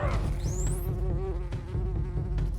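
Bees in a video game battle buzz in a steady, close drone, with game effects and a rising whistle-like tone layered over the hum throughout.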